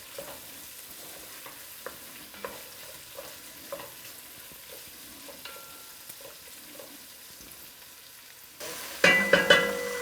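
Spicy chicken frying in a pan with a quiet steady sizzle and occasional light stirring clicks, then a sudden louder burst of crackling and scraping near the end.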